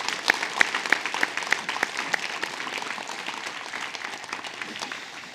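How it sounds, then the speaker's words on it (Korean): A church congregation applauds at a Sunday worship service, a broad, moderately distant wash of many hands that starts fuller and slowly thins out over several seconds. "감사 박수 올려드리겠습니다."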